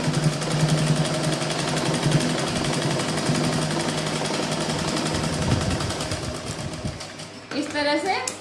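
Close, steady motor whir and rapid needle chatter from a sewing machine stitching a blouse continue for about seven seconds, then stop, and a voice talks briefly at the end.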